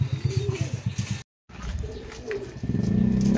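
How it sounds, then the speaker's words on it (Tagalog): Racing pigeons coo in a loft, a run of rhythmic low throaty calls up close, broken by a short silence and followed by softer cooing under rustling. "Ito mga ibon natin."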